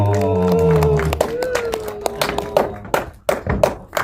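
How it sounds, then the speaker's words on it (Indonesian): Scattered hand claps break out for child actor Evano at a film trailer and poster launch press conference, a few sharp, uneven claps following a stretch of amplified talk. "tepuk tangan untuk Evano."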